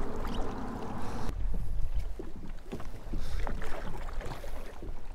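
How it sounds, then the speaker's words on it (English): Kayak paddling on windy Chilhowee Lake during a fishing tournament, with steady splashing and dripping strokes up close and gusty wind rumbling against the microphone throughout. "I keep having to paddle the whole time."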